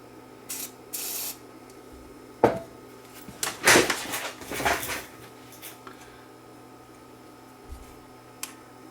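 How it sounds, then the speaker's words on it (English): Short hissing bursts of contact cleaner sprayed onto the mode switch of a Panasonic DVD VCR combo, close and sharp, mixed with small clicks and handling knocks on a quiet bench. "we'll give it a shot of cleaner anyway"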